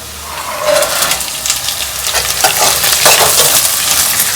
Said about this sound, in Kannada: ಈರುಳ್ಳಿ ಬ್ರೌನ್ ಕಲರ್ ಬರೋವರೆಗೂ ಹುರ್ಕೋಬೇಕು.